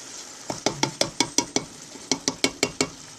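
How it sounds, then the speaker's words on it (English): A spoon stirs beans into a pot of homemade chili, giving two quick runs of sharp, rhythmic scraping clinks against the pot, close and loud, with no talking. "We're going to stir the beans in, and let it cook for another 10 minutes."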